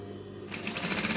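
A sewing machine starts up halfway through and runs in a quick, even rhythm of close, clattering stitches during a beginner straight-stitch session; the first half is a quiet hum.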